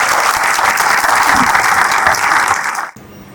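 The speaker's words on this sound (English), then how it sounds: "join me in welcoming, with great round of applause, Professor Mohammad Hussain Rana." An audience gives a dense, loud round of applause for a speaker, steady clapping from many hands that cuts off abruptly near the end.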